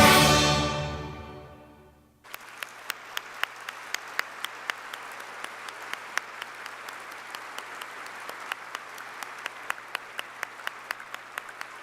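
Audience applause breaks out after a musical performance at an opening ceremony. After about two seconds of fading music, the steady clapping of a crowd takes over and continues for the rest of the clip, with sharp individual claps standing out.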